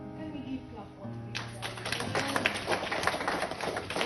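A church congregation breaks into broad applause after a quieter stretch with organ or keyboard tones, the clapping swelling loud and dense and continuing to the end.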